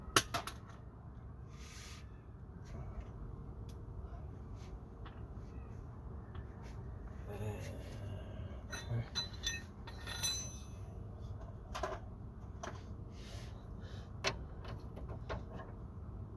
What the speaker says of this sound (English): These new ones are a different size socket, so just bear with me just while I change it.